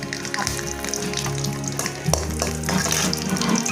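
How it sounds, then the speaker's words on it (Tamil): Cashews roasting in ghee for sweet carrot pongal give a steady close sizzle with faint bubbling under it, continuous and fairly loud with a few brighter crackles near the end. "நெய் விட்டுக்கலாம். முந்திரியை வறுத்துக்கலாம்"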